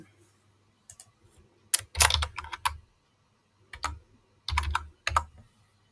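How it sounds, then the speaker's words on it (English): Bursts of typing on a computer keyboard, close and crisp, with quick clusters of keystrokes separated by short pauses and near silence between. "So I'm typing a message"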